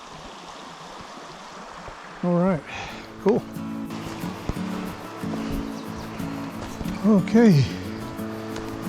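A river flowing near Lake Monowai gives a steady broadband wash of water throughout, with people talking briefly over it and occasional louder bursts nearby.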